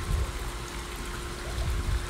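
Water leaking near a pool skimmer, a soft continuous trickle and gurgle with low rumbling swells, close and steady with no talk.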